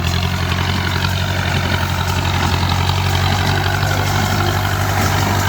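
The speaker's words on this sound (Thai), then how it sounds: "แมสซี่ 124 เกาะรถไถแม็กซี่นะครับผม" A Massey 124 hay baler hitched to a Massey tractor runs during a straw-baling test in a field in Si Samrong, Sukhothai, with a steady, loud, deep engine drone that continues evenly throughout and no talking.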